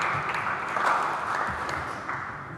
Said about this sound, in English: I would even think it might deserve a round of applause.